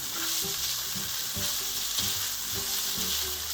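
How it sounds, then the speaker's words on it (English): A soft, steady sizzle of spaghetti frying in a pan for carbonara, constant hissing with a low hum and light clinks beneath it. "we're going to put the spaghetti into the pan and start frying it"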